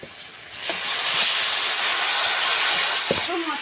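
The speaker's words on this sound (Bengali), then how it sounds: "দিয়ে দেবো কচি পাঁঠার মাংস" Young goat meat hits a hot pan and breaks into a loud, steady hiss of frying that holds for a few seconds before easing off.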